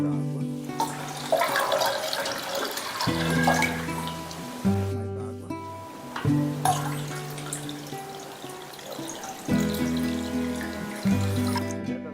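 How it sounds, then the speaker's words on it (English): Water splashes and pours into a container holding fish in several separate bursts, with a resonant gurgling fill and pauses between pours. "so I'll add more water."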